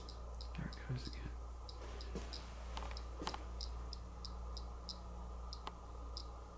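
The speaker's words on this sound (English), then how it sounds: "seems to be clicking in a pattern" Faint repeated clicks tap out an irregular, coded-seeming pattern inside an old house of horrors theater, small sharp ticks spaced unevenly against a quiet hum, with soft speech murmuring in the background.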